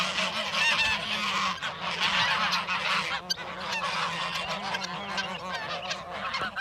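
A flock of geese feeding on grass honks steadily and loudly throughout, many overlapping calls forming a dense, unbroken chatter nearby.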